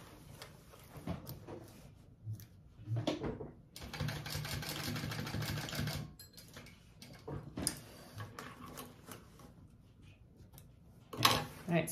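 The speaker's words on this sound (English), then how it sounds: "I'm going to baste it onto my lining piece" A sewing machine basting a pocket onto bag lining runs in a steady whirring burst of stitching for about two seconds, close, with quieter handling noises before and after.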